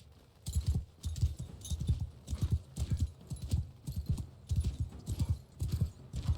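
Horse hooves clip-clop in a steady gallop rhythm in Mount & Blade II: Bannerlord, regular loud beats with no speech over them.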